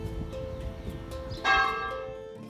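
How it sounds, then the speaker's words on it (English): A church bell rings out on a Sunday near Otmoor outside Oxford, one clear resonant strike blooming from a low outdoor hum and then ringing on with a long, slowly fading shimmer. "church is ringing the bell because it's a Sunday"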